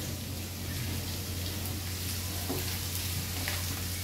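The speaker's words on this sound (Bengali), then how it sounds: "মোটামুটি পেঁয়াজটা ভাজা হয়ে যাচ্ছে।" Chopped onion and carrot frying in a pan for restaurant-style Chinese noodles, a steady close sizzle with faint scrapes from a spatula stirring, alone with no talking.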